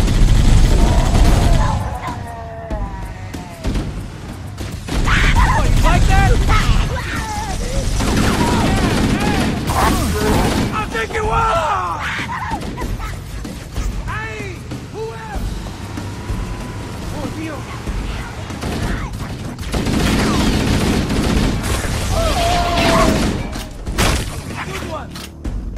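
Bursts of gunfire, blasts and explosions from a Halo battle on the Silent Cartographer mission rattle loudly in repeated waves, with voices shouting over the fighting.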